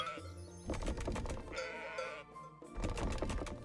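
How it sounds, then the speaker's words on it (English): Mountain goats bleat in the trading video game Let Them Trade, several wavering nasal cries in quick succession, close and fairly loud, with short gaps between calls. "Let's see, we'll do mountain goats."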